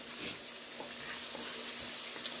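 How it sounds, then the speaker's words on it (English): Vegetables stir-frying in a skillet, a steady broadband sizzle with soft intermittent stirring knocks, moderately close and continuous with no talk. "And then just stir fry your vegetables till they're golden brown."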